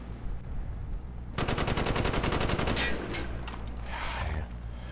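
Rapid automatic gunfire from a Call of Duty Black Ops multiplayer match bursts in loudly and continues for a couple of seconds, then trails into scattered shots and game noise.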